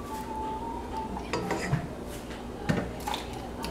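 Lobster butter sauce stirred in a pot with a utensil, soft scraping and a few distinct metallic clinks against the pot, quiet and close with no talking.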